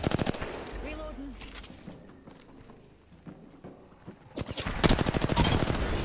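Rapid automatic gunfire rattles in dense bursts in a PC video game, with a quieter pause in the middle before another loud volley, and a voice speaks briefly early on.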